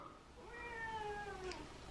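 A house cat gives a single drawn-out meow, rising and then falling, heard close but soft over a steady background hiss.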